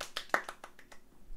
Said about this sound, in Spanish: Un aplauso para Mike.